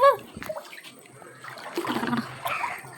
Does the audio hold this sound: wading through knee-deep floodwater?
yes